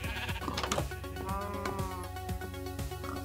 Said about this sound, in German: Du bist bestimmt ein weißes Schaf.